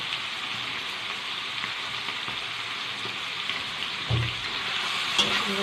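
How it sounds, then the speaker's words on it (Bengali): Chilli powder, salt and spices for a prawn curry with sponge gourd hiss and crackle steadily in a pan, a soft continuous fry with a brief stir-like clatter near the end. "মশলাটাকে হালকা কষিয়ে নেব"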